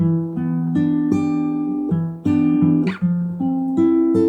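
Guitar chords from a song ring out clearly and up close, a slow sequence of strummed chords with sustained tones and a brief scrape between changes, played alone.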